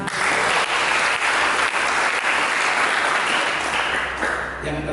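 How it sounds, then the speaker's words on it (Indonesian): Church congregation breaking into loud, dense clapping during a sermon, a steady unbroken wash of applause lasting several seconds with some individual claps standing out. "Tiga tepuk tangan."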